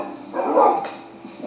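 Dogs in a Minecraft survival game give a short burst of barking and yipping, a mid-loud cluster of yaps peaking in the middle of the moment, then trailing off into softer game ambience.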